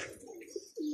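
Pigeons cooing near a loft during a pigeon hunt, soft low coos running through a second-long stretch with a louder, sustained coo toward the end.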